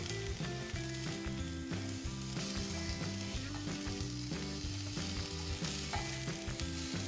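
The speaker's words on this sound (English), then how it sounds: "Just saute for 1 minute and then switch off the flame." Masala ingredients sauteing in a pan for a Goan ross omelette, a quiet, constant sizzle and frying crackle heard beneath rhythmic background music.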